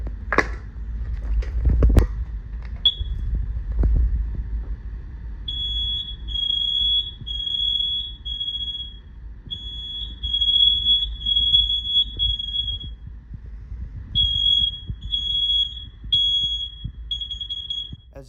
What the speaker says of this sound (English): As you can hear, it just did the temporal ANSI code for carbon monoxide.